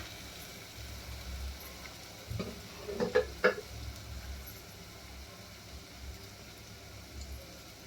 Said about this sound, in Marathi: मसाला पण चांगला परतून घेऊया.